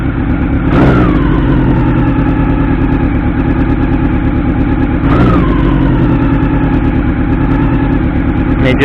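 A 1989 Honda CB-1 400cc inline-four motorcycle, carbureted and with a sluggish throttle, idles loudly up close and is blipped twice to sharp, snarling revs that quickly settle back to a steady, busy idle.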